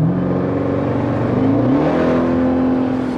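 A 707-horsepower car engine revs hard up close, a loud, steady, rich roar whose pitch climbs and then holds through the whole stretch, with no voices over it.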